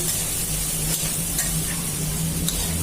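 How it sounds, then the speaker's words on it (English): Vegetables stir-frying for chow mein hiss and sizzle steadily in a hot pan, with a constant close crackle and occasional scraping stirs over a low hum. "And as the vegetables are cooked or are cooking"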